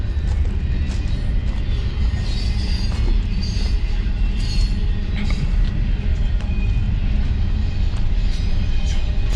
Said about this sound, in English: there's a train running in the background